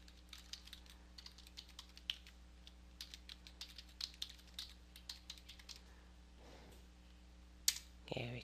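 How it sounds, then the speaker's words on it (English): Password typed on a computer keyboard during a Windows Server 2008 installation: soft, irregular key clicks in a quick run, faint and close, with no other sounds over them. "So I'm going to type in a password."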